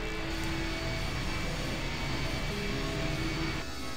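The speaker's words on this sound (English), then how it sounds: "I'll be damned. The engine's starting up again." An engine starts up and runs in the I Have No Mouth And I Must Scream video game: a loud, steady, jet-like roar with faint tonal whines that holds for about four seconds before dropping slightly at the end.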